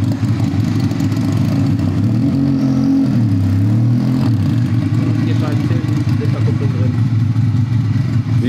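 A 1600 hp manual-gearbox convertible rolls into the 9FF tuning yard in Dortmund, its deep engine rumbling and revving in swells above a steady idle while people talk nearby.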